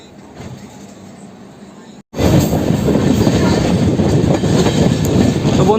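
The Dhauli Express, running toward Bhubaneswar, roars in loud and steady after a quiet stretch and a sudden cut, a dense rolling rumble with wheel clatter close by.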